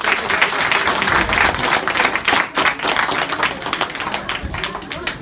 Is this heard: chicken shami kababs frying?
no